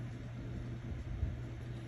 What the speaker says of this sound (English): I apologize for the noise. That's the fan blowing.